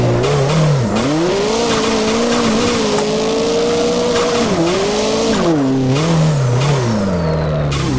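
Continuous tire squeal from a drifting car in Assetto Corsa, with the engine droning and wavering in pitch as the car slides, loud and sustained throughout.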